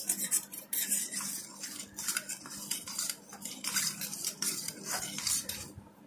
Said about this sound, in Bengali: এটাকে খুব ভালো করে গুলে নেব যাতে করে এই ইস্টটা কিন্তু খুব ভালোভাবে খুব সুন্দরভাবে কিন্তু এই গরম জলটাতে গুলে যায়